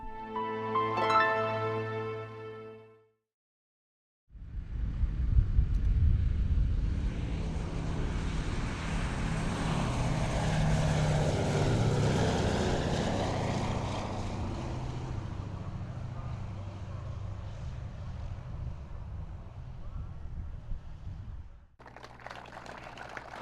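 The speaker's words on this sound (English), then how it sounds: "the Yankee Air Force's beautifully restored Yankee Lady, a B-17 much like the one in which Jack Sinise flew his 30 wartime missions." A restored Boeing B-17 bomber, the Yankee Lady, at the 2015 Warbirds in Review event: its piston propeller engines give a loud, steady broadband roar that swells and holds for about eighteen seconds before cutting off, after a brief harmonic tone and a short silence.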